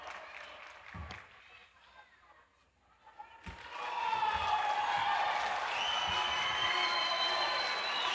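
Audience at a taolu wushu competition breaks into sustained applause and cheering after a brief thud and quieter murmuring, the clapping swelling and holding steady at a moderate distance.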